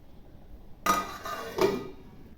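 A lid clinks twice onto a pot of foxtail millet khichdi with rice, lentils, green chillies and salt, two short close metallic knocks less than a second apart in a quiet kitchen.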